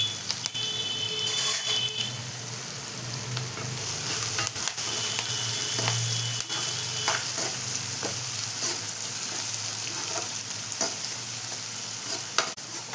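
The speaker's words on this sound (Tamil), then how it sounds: "வெங்காயம் போடுறேன். அது கூடவே கொஞ்சம் கறிவேப்பிலை போடுறேன்." Onions and curry leaves fry in a pan for a tomato kurma, giving a steady close sizzle broken by scraping stirs throughout, with no talking.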